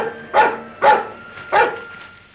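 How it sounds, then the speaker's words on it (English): A dog named Timmy barks three times in quick, evenly spaced bursts, loud and fairly close, near marshy ground by rocks. Each bark fades into a brief tail, and there is no talking. "What's the matter with that dog?"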